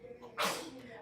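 A single short, sharp sneeze bursts out near the start, close and moderately loud, followed by quiet background.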